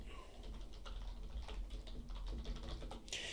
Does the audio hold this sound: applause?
no